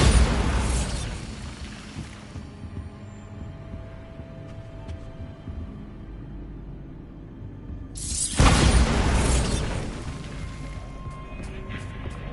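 The Bombarda blasting spell goes off in a video game as two loud, booming bursts, one at the start and one partway through, each fading into a rumbling, crackling tail.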